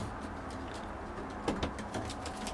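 A pigeon in a loft, a Dacian cross hand-fed peanuts from a palm, gives soft low coos against quiet background noise, with faint pecking clicks near the middle.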